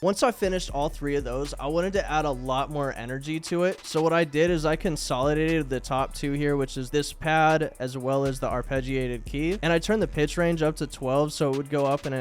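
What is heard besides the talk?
No everyday noise stands out behind the speech.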